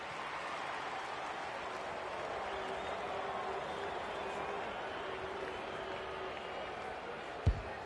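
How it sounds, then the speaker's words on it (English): A steady roar of a stadium crowd at a VFL Australian football match between Geelong and South Melbourne, broad and sustained noise from many people with one sharp thump near the end. "The crowd noise tells you all you need to know."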